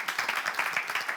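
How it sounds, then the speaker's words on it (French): A studio audience applauds at the French game show Les Champions, a dense, steady patter of many hands clapping close by that runs unbroken for the whole moment. "On l'applaudit."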